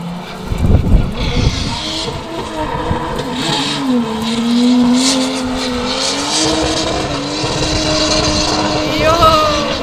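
A drift car at a drift championship at Pezinská Baba roars close and loud, its engine revving and wailing as tires squeal, with spectators talking over it throughout.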